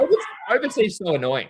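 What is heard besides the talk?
dog barking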